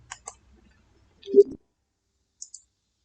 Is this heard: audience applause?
no